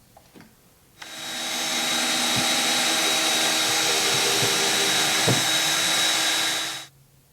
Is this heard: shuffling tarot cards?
no